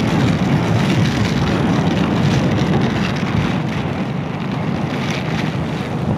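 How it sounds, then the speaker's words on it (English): Heavy rain pours during a KTM Duke 250 motorcycle ride to Vandri Lake, a loud, dense, continuous hiss of rain mixed with wind buffeting the microphone, steady throughout with no speech. "my god, it's raining like hell"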